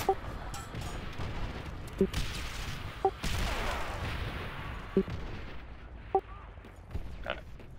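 Grenade blast in a combat video game: a broad, noisy explosive burst around the middle with scattered sharp gunshot cracks before and after, all at moderate level under continuous game background.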